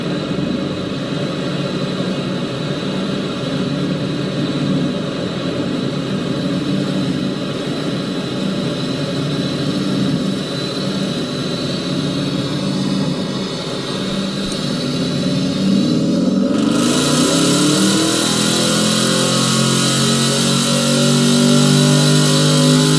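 Mercedes SLS 63 AMG tuned to 630 PS roars steadily on a dyno, a loud, sustained engine note that climbs in pitch near the end as the revs rise, with no voices over it.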